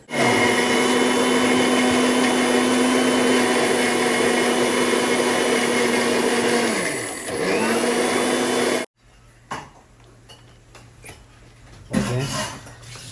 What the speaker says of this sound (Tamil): நான் மிக்ஸில போடுவோமா அங்க மிக்ஸி